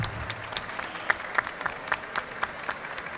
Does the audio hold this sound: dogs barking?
no